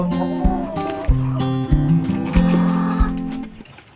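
A goat bleats repeatedly in drawn-out, wavering calls, close and loud, with short gaps between cries.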